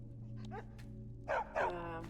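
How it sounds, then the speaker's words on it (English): A dog in the Skyrim video game gives a couple of short yips or barks near the end, over a steady low game hum and background ambience. "Good dog."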